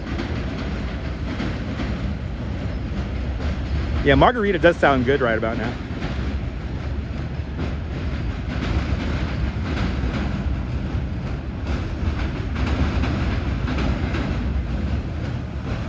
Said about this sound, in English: Oh yeah, 2 more trains coming in.